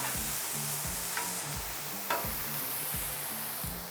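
Smash burger patties fry on a flat griddle, giving a steady broadband sizzle with a couple of brief scrape or clatter accents, heard alone at moderate level.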